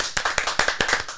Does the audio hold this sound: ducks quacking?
no